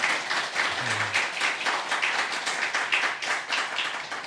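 A church congregation at a Sunday worship service claps together in sustained, dense applause, steady and fairly loud throughout, with a brief low murmur partway in.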